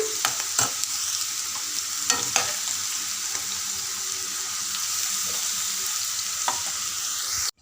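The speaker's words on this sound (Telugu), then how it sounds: "మంచిగా బాగా ఫ్రై అవ్వనివ్వాలి చూడండి కాకరకాయ ముక్కలు ఫ్రై అవుతుంది" Bitter gourd pieces fry in hot oil with a steady broadband sizzle, broken by a few sharp scraping stirs near the start and end, and no voice over it.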